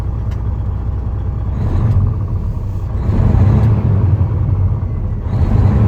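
A 2016 Peterbilt 389 pre-emission glider kit day cab truck rumbles with a deep, steady diesel engine sound that swells louder in two smooth rev rises, close and continuous with no talk.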